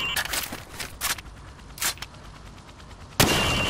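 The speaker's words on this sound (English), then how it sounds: "I want to see you fire from the hip." Hip-fire gunfire in Call of Duty Modern Warfare, coming as several sharp shots and short bursts with gaps between them, fairly quiet overall, ending with one louder sustained burst.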